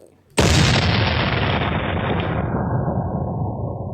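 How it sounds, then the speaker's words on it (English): A single sudden, loud cannon boom erupts from near silence and rolls into a long, fading rumble, like a Tampa Bay Buccaneers cannon-fire sound effect. "Fire the cannons, boy!"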